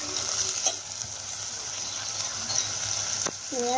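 Moth beans and potatoes frying in a pan, a continuous soft sizzle with a few clinks of a stirring spoon and a short metallic scrape near the end.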